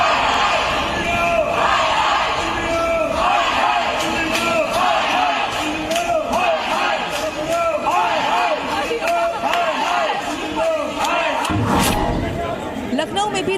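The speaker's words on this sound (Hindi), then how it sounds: "इंडिगो हाय हाय के नारे लगने लगे।" Angry airline passengers crowd outside an IndiGo counter at Delhi airport, their loud overlapping shouts and rhythmic slogan chanting forming a dense, continuous hubbub with sharp yells throughout.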